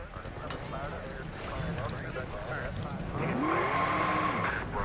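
Race car engines and tyre squeal from the NASCAR Racing 2003 video game, with a spin in the first corner at Talladega. Steady loud engine drone, a rising pitch sweep near the end, with speech over it.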